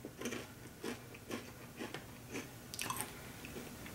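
Crunchy bites and chewing of barbecue-flavored Chirps chips, an egg-white-based snack, in a series of close, distinct crunches about every half second, with a louder flurry near the end.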